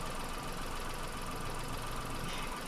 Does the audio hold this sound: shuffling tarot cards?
no